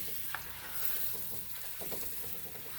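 Goat curry stirred in a pot, a spoon scraping and sloshing through the simmering, sizzling meat with a steady low crackle and a few soft clinks, close and continuous with no talking.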